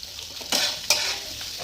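Potatoes frying in oil for sabudana khichdi, a steady close sizzle broken by two sharp scrapes of a spoon stirring in the pan.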